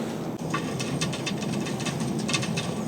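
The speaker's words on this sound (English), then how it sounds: "It's almost done sucking engine oil out the other one." An oil extractor pump sucks engine oil out of a boat engine, giving a steady, close, noisy whir with faint gurgling and no talk.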